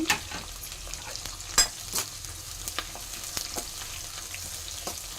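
Onion and curry leaves frying in a pan, a soft continuous sizzle under occasional light scrapes and taps of stirring, fairly quiet and close.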